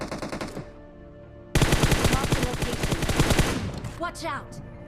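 Rapid automatic gunfire in the battle royale video game Free Fire, a loud sustained burst of rattling shots after a shorter earlier volley, ending with softer clicks.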